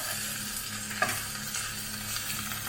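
A folded tortilla wrap browning in a hot pan, an even hissing sizzle held steady throughout with one brief clack of a utensil, close and fairly loud, no voices.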